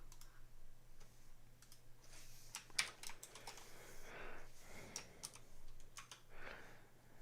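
Computer keyboard keys are pressed in quick irregular bursts of soft clicks, close and quiet, in a keyboard-shortcut session while editing text in Sublime Text.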